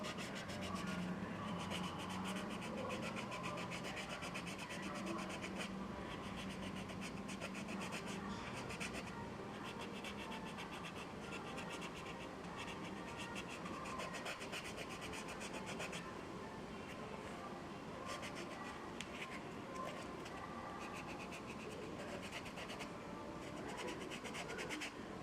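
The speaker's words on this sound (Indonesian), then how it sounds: "Ini sebenarnya kalau pengen lebih bagus ya dihamplas dulu. Soalnya ini licin ya." Sandpaper steadily rubs the smooth sole of a high-heeled sandal to roughen it before gluing, a continuous close scratching texture with no breaks.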